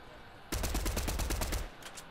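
Rapid burst of video game gunfire in Apex, roughly a dozen close, loud shots in quick succession lasting about a second, then cutting off into low background.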